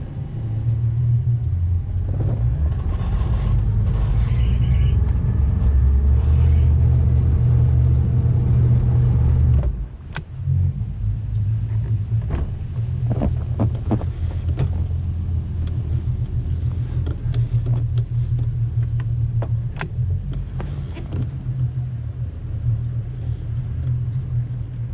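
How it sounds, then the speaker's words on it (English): A boat's outboard motor running as the boat is driven off its trailer at a launch, a loud steady low rumble that dips briefly midway and then carries on with scattered knocks and splashes. "I'm just going to drive it off the trailer"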